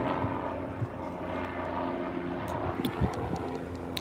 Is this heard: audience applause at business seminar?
no